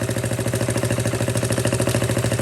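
A Honda Z50K2 minibike's small single-cylinder engine idles in neutral, a close, steady mechanical putter with an even pulsing rhythm and light clatter, with no voices.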